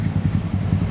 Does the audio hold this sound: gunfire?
no